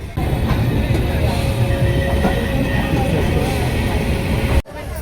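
A train rolling into Varanasi railway station at night, a loud continuous rumble with a steady tonal whine, running evenly for several seconds before a sudden break.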